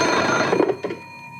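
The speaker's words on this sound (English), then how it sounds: "When the telephone rang," An old telephone bell rings with a bright, sustained metallic trill that cuts off after about a second, leaving a fading resonance. It is loud and close, with no voices over it.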